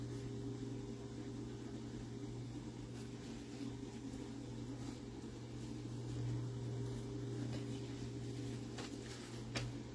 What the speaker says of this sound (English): Sorry about the noise. That's the dishwasher.